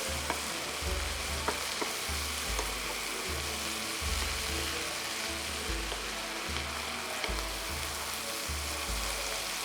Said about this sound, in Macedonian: додека се пржи зајрето